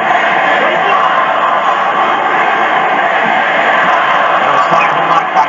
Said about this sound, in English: The AJ Styles chants.